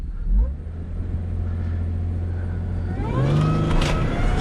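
An Audi A6 with a ZF8 transmission in sport mode, traction control off, idling with a steady low drone before the engine note swells and climbs sharply as it accelerates hard, close and loud.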